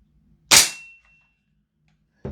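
A Double Eagle Aeroknox AX15 MWS airsoft gas blowback rifle fires a single propane-powered shot, a sharp close crack with a short mechanical ring fading over half a second, followed by quiet and a faint click at the end.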